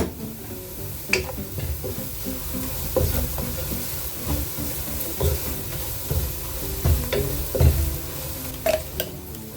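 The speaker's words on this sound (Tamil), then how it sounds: "இப்போ வந்து நம்ம அரைச்சி வச்ச மசாலாவை சேர்த்துக்கலாம்" Ground masala paste fries with sautéed onions for a mutton biriyani, a steady sizzle under repeated scraping stirs and occasional sharp clinks of a spoon against the pot.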